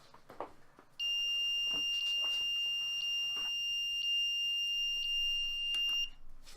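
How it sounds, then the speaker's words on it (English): An Arduino-built alarm clock goes off with a loud, steady multi-tone electronic beep that holds for about five seconds and then cuts out, with faint room noise and a dog moving about nearby. "the alarm is going to go off"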